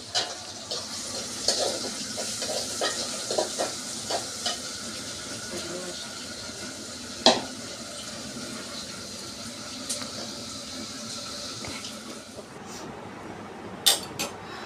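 Sliced onions sizzle steadily in oil in a pan as the base for a pangas fish curry, with scattered scraping stir strokes and a few sharper clinks throughout.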